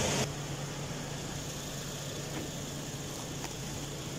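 A Toyota Innova engine idling with a newly fitted auxiliary fan motor running, a steady low hum and even whirring drone heard close up, with no talk.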